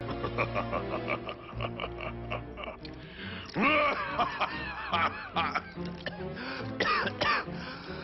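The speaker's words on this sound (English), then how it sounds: "later he, starts coughing as he laughs" A cartoonish voice of Megatron from Beast Wars laughs and breaks into raspy coughs, a choppy mix of throaty hacks and chuckles in short bursts.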